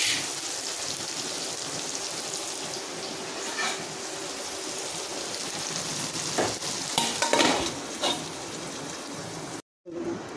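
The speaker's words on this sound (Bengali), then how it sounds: "দেখুন পেঁয়াজটা ব্রাউন কালার প্রায় হয়ে এসেছে, হয়ে গেছে পেঁয়াজটা ভাজা" Salted onions fry in a pan to brown, a steady close sizzle with occasional stirring scrapes and clatter, briefly cutting out near the end.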